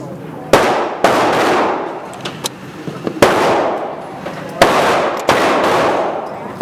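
Sharp loud gunshots are fired at a shooting range with new shooters: about five separate reports, each with a ringing decay, plus a few smaller clicks and knocks between them.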